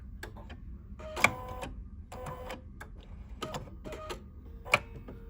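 An embroidery machine's thread cutter works in a series of short mechanical whirs and clicks, with a few sharp ticks and brief motor bursts, close and moderately quiet with no voices.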